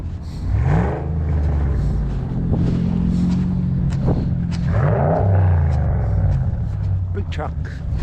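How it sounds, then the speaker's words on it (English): A truck drives past on a snowy road after a lake effect snowstorm, its low engine rumble rising and falling as it passes close by, with a steady whir of tires on the snow. "Truck."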